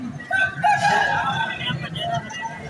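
A rooster crows among chickens at a busy poultry market in Lahore, the crow loud and near against a bed of clucking and murmuring voices.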